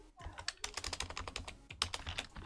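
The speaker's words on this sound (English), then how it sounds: "So I'm going to type hello world like this." Rapid keystrokes on a computer keyboard, a dense run of close, crisp clicks that keeps going with one brief gap, heard against a faint background with no clear talking.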